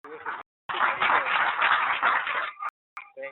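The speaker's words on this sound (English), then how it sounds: "I heard the applause" Audience applause at a lecture, a dense, steady burst of clapping lasting about two seconds, bounded by brief talk before and after.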